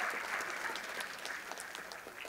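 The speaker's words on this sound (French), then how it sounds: "pour se faire applaudir devant" Applause from the audience at a local school talent show final, a steady patter of many hands clapping that holds moderately loud, then eases slightly over about two seconds.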